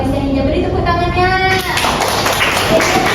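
Students in a classroom guidance lesson break into a burst of hand clapping that rises after children's voices and ongoing chatter, filling the room for a couple of seconds.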